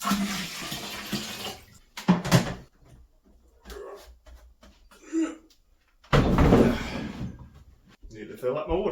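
A tap runs to fill a water container for gem cutting, a brief steady gush that comes after stretches of talk and clattering handling noises.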